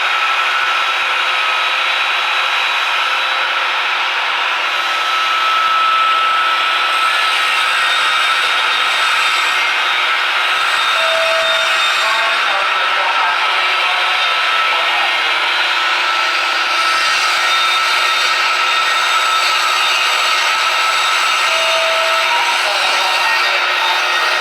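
A power tool runs continuously while cutting a thin beadboard sheet, giving a loud, steady high whine and rasp with no pauses for the whole stretch.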